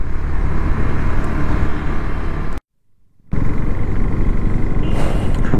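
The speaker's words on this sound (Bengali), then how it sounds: "আবার একটা জ্যামের রাস্তা পেয়েছি আমরা।" A traffic jam on the bumpy market road at Balarampur produces a loud, continuous rumble of engines and road noise. It drops to near silence for a moment before the steady roar resumes.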